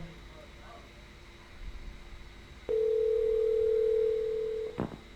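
An in-game telephone in Garry's Mod sounds a single steady electronic ring tone lasting about two seconds, loud and clear over a low room hum, ending with a brief click.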